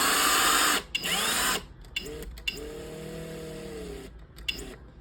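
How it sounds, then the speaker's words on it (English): A power drill drives screws into a magnetic frame, with a loud steady whir that stops and restarts in short bursts and pitch changes as each screw goes in. "So both of these, I'm going to put screws in and bring those in together."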